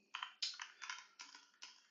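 Keys clatter on a computer keyboard in quick bursts of typing, faint and close, five short clusters of taps with brief gaps between them, no voices.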